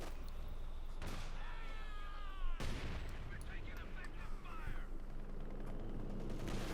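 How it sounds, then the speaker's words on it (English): Mortar and Scott artillery fire sounds in a Company of Heroes 2 battle over a trench machine gun position, with sharp blasts and rumbling bursts over a constant background of battlefield noise. "Mortar and Scott fire there on the machine gun inside the trench."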